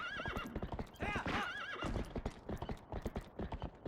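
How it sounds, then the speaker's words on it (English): A stock horse neigh and whip crack in the video game Twilight Princess: a loud, close whinny with rising and falling pitch over quick clip-clop hoofbeats, with sharp snaps running throughout. "listen to that stock-ass neigh and whip crack"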